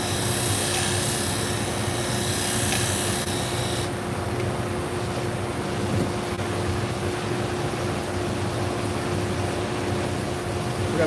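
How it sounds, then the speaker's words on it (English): Pet grooming shears worked on a 1000 grit sharpening wheel give a steady, close grinding rasp under a continuous machine whir, with a brighter hiss that drops away after a few seconds. "I'm going to go back to the 1000 grit here. I mean, yeah, just one or two passes on that 1000 grit."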